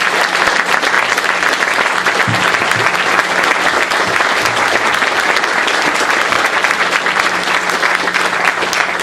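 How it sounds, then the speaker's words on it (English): Steady, loud applause from an audience at the Anderson Springs groundbreaking ceremony, dense clapping sustained for the full stretch with a faint murmur of crowd beneath it. "We need to give her a round of applause."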